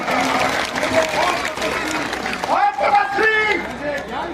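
An audience claps loudly at an outdoor effigy-burning show, with a crowd murmuring and a voice carrying through the applause for several seconds.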